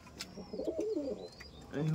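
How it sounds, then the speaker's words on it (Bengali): Pigeons coo in a loft, soft low rolling calls close by, repeated a few times amid faint background chirps and rustling. "পায়রা দেখুন"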